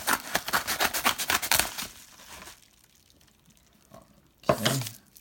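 Watch packaging is cut open in a rapid series of loud, close crinkling and slicing scrapes, then a quiet pause before another short burst of rustling.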